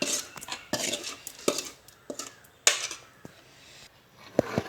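Fenugreek leaves are stirred into dosa batter in a metal bowl, a ladle clinking and scraping against the sides in a few irregular, sharp knocks amid soft wet mixing, fairly quiet and close.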